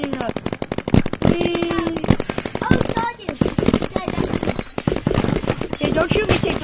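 Paintball guns fire rapid bursts of sharp, close popping shots outdoors at a paintball field, nearly continuous volleys with brief pauses, while players shout and talk over them.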